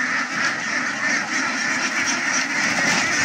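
A large flock of about two hundred young ducks being released into a rice paddy, quacking in a dense continuous chorus that sounds close and loud.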